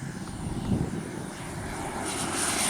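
Flyfans MiG-25 Foxbat EDF RC jet taking off at full throttle, a loud rising ducted-fan roar with a high whine climbing steadily in intensity over a few seconds, heard up close outdoors.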